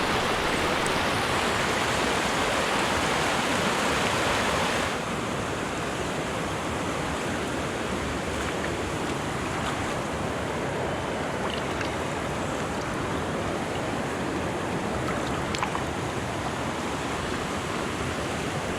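Continuous broadband rush of river water flowing near a bank, loud and steady throughout, slightly louder for the first few seconds, with no voices.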